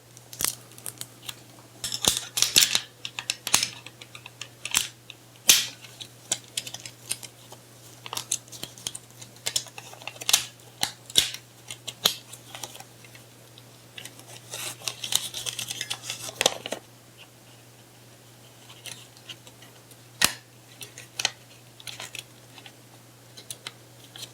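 Paper backing from 120 film is fed into a Pentax 645N medium-format film magazine, making close, irregular crisp clicks, rustles and snaps in quick clusters with pauses, over a low steady hum and no talking.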